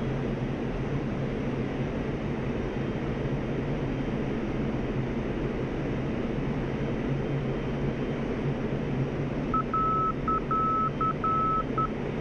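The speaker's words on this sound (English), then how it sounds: "As you pass over the inner marker beacon" Inner marker beacon in the DCS World flight simulator, a rapid series of short high beeps pulsing over a steady cockpit engine rumble and hiss, fairly faint and lasting a few seconds near the end.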